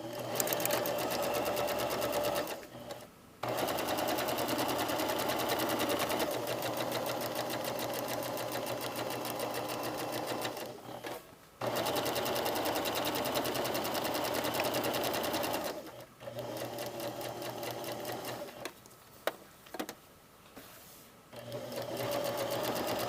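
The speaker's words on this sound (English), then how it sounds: "Next thing I'm going to do is stay stitch all this together like I did the second pocket" A sewing machine stay stitches a patch pocket in long, fast, steady runs, pausing briefly several times before starting up again, close and alone without talk.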